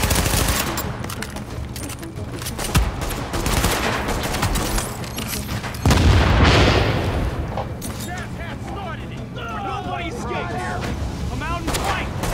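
Gunfire and explosions in Tom Clancy's The Division combat, dense rapid shots and booms filling the whole stretch, with one heavy blast in the middle, while players talk over the chaos.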